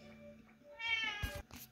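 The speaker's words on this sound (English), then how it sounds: "you can hear my cat in the background." A house cat meows in the background of an indoor room, giving a few brief drawn-out calls, the loudest near the end, over a quiet tonal backdrop.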